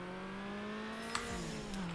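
Car engine in the video game Need for Speed Underground, held at a steady high over-revving whine for about two seconds, with a brief faint click partway through.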